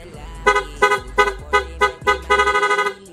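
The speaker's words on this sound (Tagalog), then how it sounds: "stock horn muna tayo" A motorcycle's stock electric horn blares in about seven short, loud honks at an uneven rhythm, the last one held longer, each a buzzy tone layered with harmonics.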